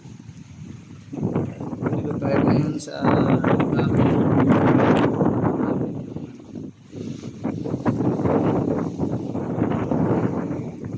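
Strong wind gusts through a nighttime storm that also brings rain and thunder, a loud continuous roar buffeting the microphone with a brief lull midway, while a person talks over it throughout.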